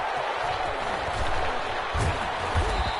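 A stadium crowd in the Madden 21 football game roars steadily before a Bengals versus Vikings matchup, with scattered thumps and claps in the mix and a commentator talking over the broad crowd noise.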